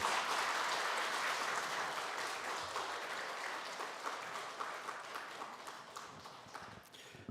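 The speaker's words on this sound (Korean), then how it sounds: "다시 한번 교사들을 위해서 큰 박수 부탁드리겠습니다." A church congregation gives dense, sustained applause for teachers during a Sunday afternoon service, loud at first and gradually tapering off over several seconds.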